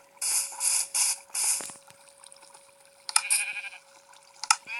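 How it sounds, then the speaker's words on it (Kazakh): Sheep bleat close by in a run of four loud, evenly spaced calls, then fall quiet before a few more bleats follow, with a faint steady tone beneath and no voices. "Қасымда қойлар."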